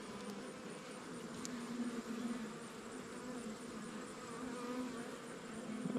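Honey bees drone in a dense, steady buzz around their hive, a continuous close swarm hum with slight swells, with no voices.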